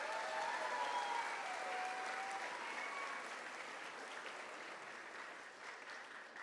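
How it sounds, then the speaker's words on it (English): An audience at a 5th grade moving up ceremony applauds in a sustained, even wash of many hands clapping that slowly tapers toward the end. "Give them a big round of applause for that."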